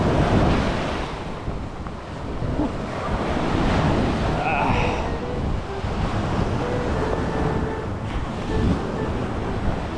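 Big sea waves rolling and crashing near a small fishing boat, with strong wind buffeting the microphone, loud and continuous, a steady roar of surf close by.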